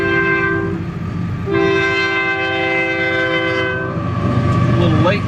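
A train sounds its horn in long sustained blasts near Winter Haven by the Imperial Dunes, loud and close, two main blasts with a brief gap, over rolling rail rumble.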